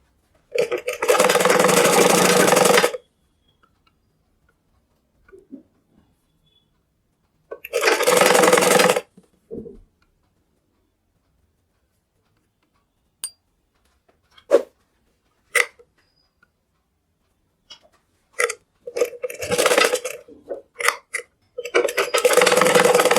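A sewing machine stitches a petticoat in two separate bursts, each a few seconds long, followed by sparse clicks and short handling noises as the fabric is adjusted.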